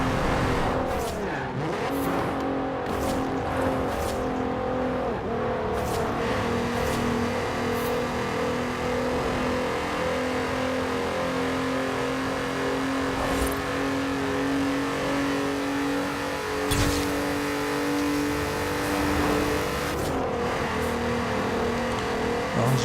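A Volkswagen Golf 3 with its VR6 engine accelerates in the racing game Forza Horizon 4, its engine revving steadily for over twenty seconds with rising and falling pitch through gear changes, plus brief tire squeals.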